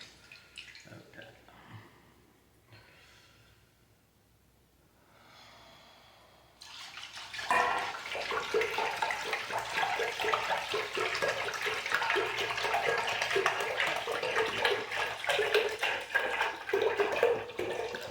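Tap water runs steadily into a pot while rice is washed, a continuous broadband splashing rush that starts after a few quieter seconds of light clinks and trickles and then carries on loud and near.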